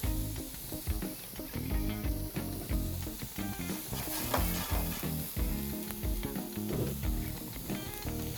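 Chopped onions and garlic sauté in a hot pan for shrimp scampi, a steady, fairly loud sizzle with faint pulsing layered over a busy background.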